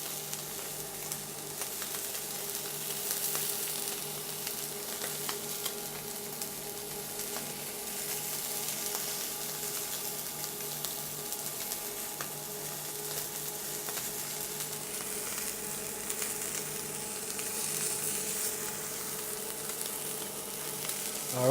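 Red steak grilling on a grill, a steady, faint sizzle and crackle that holds evenly throughout with no talk over it.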